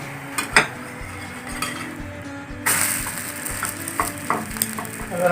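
Bread toast frying in butter in a pan: a few metallic clinks and scrapes of a utensil, then a brighter sizzle that rises halfway through and holds, close and without talk.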